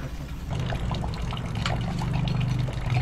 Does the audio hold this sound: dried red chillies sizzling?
no